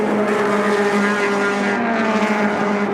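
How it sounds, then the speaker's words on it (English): Vintage production race cars under 2.5 litres, led by a Datsun, racing at Sonoma: a loud, steady engine roar with sustained tonal drone throughout, no voices. "Stuart Mill and the 45 Datsun takes the lead here at Sonoma"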